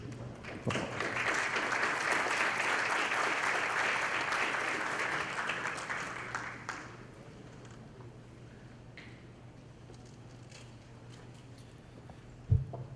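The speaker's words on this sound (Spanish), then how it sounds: "lo recibimos igualmente con un aplauso" A lecture-hall audience at a university forum applauds to welcome a professor, a sustained round of clapping that fades after about six seconds into quiet room noise with a steady low hum.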